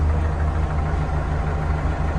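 A Solis 105 tractor engine idles steadily nearby, a constant low rumble with no change in pace and no voices.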